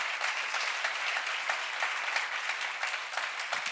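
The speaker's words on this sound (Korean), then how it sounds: "박수 세게 쳐봐." A crowd at a church seminar claps steadily and briskly, a dense sustained burst of applause at moderate volume with no talking.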